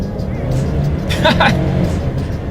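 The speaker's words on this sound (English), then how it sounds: "let's see how quickly we can get the 2020 Explorer here up to speed" A 2020 Ford Explorer XLT with its base engine accelerates hard, a steady loud engine drone building into a strained rev with road noise, close and continuous throughout.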